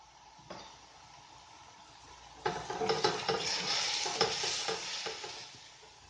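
Chicken and carrots stir-fried over a high flame for chicken fried rice: a quiet sizzle, then vegetables hit the pan and a louder crackling frying with spatula scrapes and light clinks continues.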